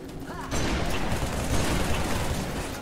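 A burst of rapid gunfire in Halo 3 erupts after a brief quieter moment, continuing as a dense, loud clatter of shots.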